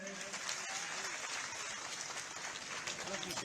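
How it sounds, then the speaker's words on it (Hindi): A large crowd applauds at a BJP public rally in Poraiyahat, Godda, as a district leader is welcomed, with dense, sustained clapping heard from a distance under faint voices and crowd noise. "जोरदार ताली बजा के अभिनंदन करें।"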